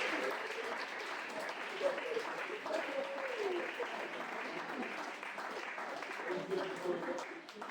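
A church congregation applauding and cheering for Jesus, a sustained wash of clapping with voices calling out over it, steady and fairly distant throughout.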